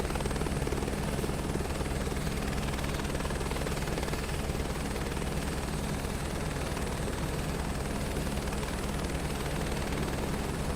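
A helicopter flown in Microsoft Flight Simulator 2024 gives a loud, steady rotor drone with a rapid blade thump that runs unbroken throughout, with no one talking over it.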